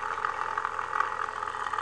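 GOBO magnet motor running with a steady whirring mid-pitched hum and a slight pulsing flutter, close and moderately quiet, with no voices.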